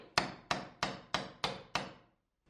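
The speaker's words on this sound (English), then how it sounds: "just drilling a hole there and then coming back with a hammer and tacking that in" Hammer striking a nail punch to tack tongue and groove wood siding, six sharp even blows about a third of a second apart, close and alone, each ringing briefly before a pause.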